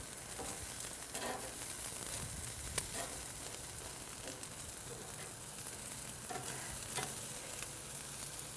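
Chicken wings for sriracha honey wings sizzle and crackle steadily in a hot pan, a constant close frying hiss with faint stirring touches and no talking.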